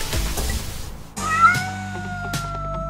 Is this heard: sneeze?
no